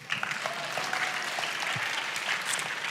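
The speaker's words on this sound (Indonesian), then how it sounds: "Kok nggak mau tepuk tangan sih?" Children at an indoor health seminar break into steady applause, a dense wash of clapping that holds evenly throughout with faint crowd murmur beneath.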